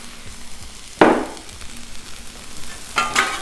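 Red pepper and red onion sizzling on a Blackstone griddle, a steady fry with a sharp hiss as more goes onto the hot surface and another burst near the end.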